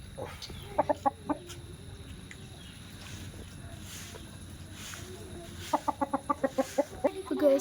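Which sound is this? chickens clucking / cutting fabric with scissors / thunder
chickens clucking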